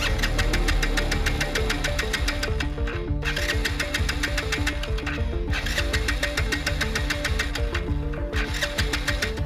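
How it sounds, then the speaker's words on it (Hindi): A motorbike engine is cranked repeatedly but will not start, giving a loud, close, rattling mechanical churn that briefly drops off twice between attempts. "यार बाइक को तो स्टार्ट करने की पूरी कोशिश कर रहा हूँ,"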